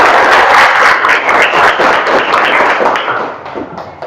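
A classroom full of students claps together in loud, dense applause that holds steady, then thins and fades out over the last second.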